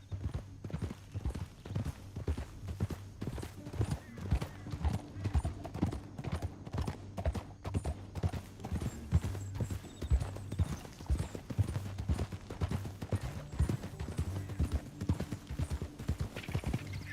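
Horse hooves clip-clop in a steady trotting rhythm through Red Dead Redemption 2 gameplay, the game's low music bed and ambience running underneath, with an occasional whinny close by and no talking.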